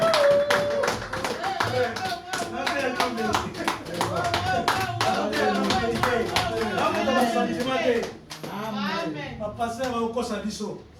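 A church congregation at a Sunday service claps together in a fast, steady rhythm to acclaim Jesus, with voices singing and calling over the applause before it thins out near the end.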